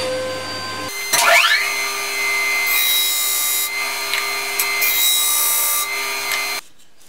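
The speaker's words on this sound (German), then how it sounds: "jetzt schleife ich es immer mit dem Tellerschleifer zurück" A disc sander grinding a glued wooden segment ring for segmented turning, a loud steady motor whine with rasping abrasive contact as the wood is pressed against the disc, then the motor stops near the end.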